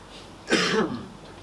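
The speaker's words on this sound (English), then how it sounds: "Oh, don't cough" A single throaty cough or throat-clear, close and fairly loud, lasting about half a second, with quiet room tone before and after.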